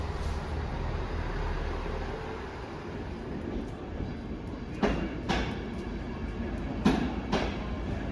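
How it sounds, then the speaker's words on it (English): A Transport for Wales local service from Holyhead pulls into platform 4 of a station, a steady low rumble of train running with a few sharp clacks from the wheels over rail joints, heard from close by without voices. "One of TfW's premier local haulage services from Holyhead arrives on platform 4."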